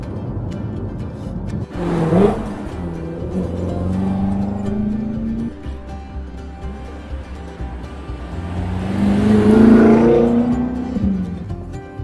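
A 2015 BMW M5, rear-wheel drive, accelerates hard with a loud engine note rising through the gears, briefly easing before surging again near the end.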